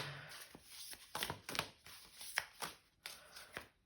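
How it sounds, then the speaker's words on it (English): Oversized cards are shuffled by hand in a quiet room: a series of soft, papery slaps and riffles in uneven bursts, close and fairly faint, with brief pauses between handfuls. "I have to shuffle like this with these whopping great cards."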